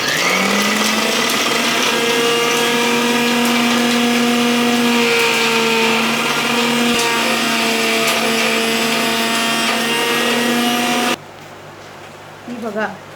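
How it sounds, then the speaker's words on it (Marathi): A kitchen mixer grinder whirs loudly and steadily, grinding a garlic chutney with red chilli powder and salt, its motor whine holding for about eleven seconds before cutting off into quiet room sound. "असं होईपर्यंत तुम्ही चांगलं मिक्सरला वाटून घ्या।"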